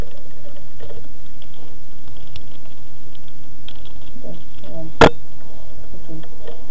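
A captcha is typed on a computer keyboard, with soft, scattered key clicks over a low background hum and one sharp louder knock partway through.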